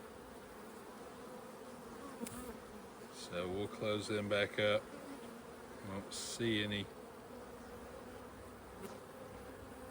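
Honey bees buzz steadily around an open hive during a beekeeping check, a constant soft hum in the background while someone talks closely over it, with a few louder handling noises.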